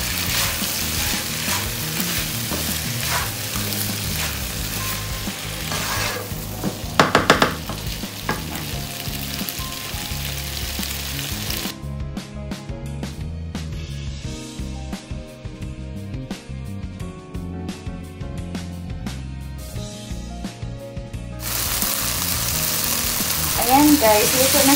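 Garlic frying in a pan for Indonesian bami goreng stir-fried noodles, a steady close sizzle with scraping and stirring throughout, briefly louder in one burst midway, with an occasional voice in the background.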